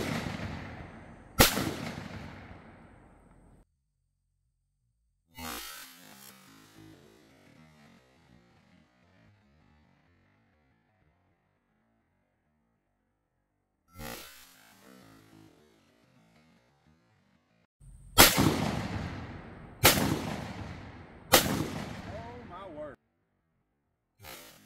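A Franchi Affinity 3 12 gauge shotgun firing high brass dove loads, several sharp, loud blasts spaced seconds apart, each followed by a short decaying tail, with a tight cluster of three shots near the end.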